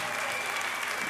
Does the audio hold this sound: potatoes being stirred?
no